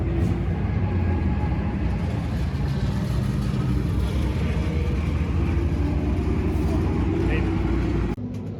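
SK race car running laps at Stafford's racetrack, a loud steady engine roar with constant rumble that holds for most of the stretch, then drops off abruptly near the end.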